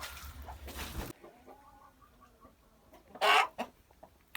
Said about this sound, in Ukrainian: хто там голосно в нас кудакає